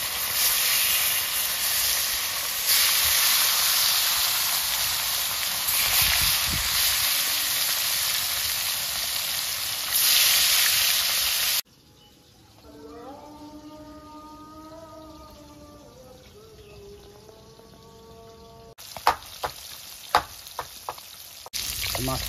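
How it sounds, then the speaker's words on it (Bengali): Rohu fish pieces rubbed with turmeric fry loudly in hot oil, a dense close sizzle for about half the clip, then a cut to a quieter stretch with tonal sounds and a few sharp knocks near the end. "তেল গরম হয়ে গেলে মাছগুলো ভেজে নিচ্ছি।"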